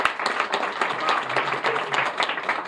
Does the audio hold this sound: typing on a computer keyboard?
no